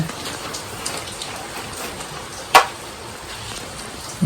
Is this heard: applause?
no